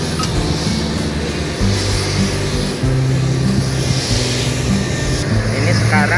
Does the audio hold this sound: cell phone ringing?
no